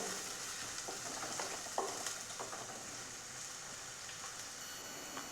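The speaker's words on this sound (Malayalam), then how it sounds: "അപ്പോൾ ഈ ഉള്ളി നന്നായിട്ട് നമുക്കൊന്ന് വാട്ടിയെടുക്കാം" Finely chopped onions sautéing in a pan for a Kerala-style sardine masala, a soft continuous sizzle with a few light stirring clicks, quiet and close, nobody talking.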